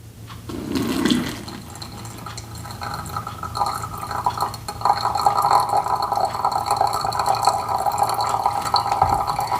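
Hot water pours steadily into a glass Chemex coffee brewer, a continuous close splashing trickle that grows fuller partway through, with no talking.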